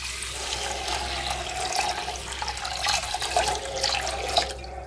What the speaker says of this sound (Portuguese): Botar mais um pouquinho de água.